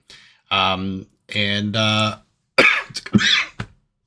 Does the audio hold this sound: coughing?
yes